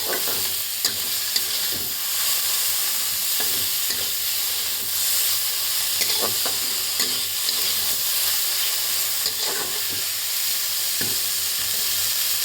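Red amaranth leaves fry with garlic in a pan, giving a steady loud sizzle and hiss. Scattered scrapes and clicks of stirring come through now and then.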